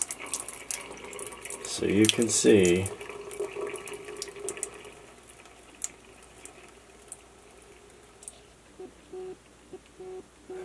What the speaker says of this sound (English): That dirty water going down the drain. I'm gonna pour it slowly